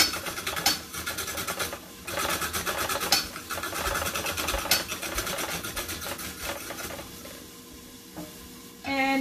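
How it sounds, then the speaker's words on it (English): A Saladmaster food processor with a number 5 slicing cone cutting celery, giving a steady close grinding, rasping whir that runs almost continuously, with a brief pause near the end. "This machine taking out the hard part of your celery."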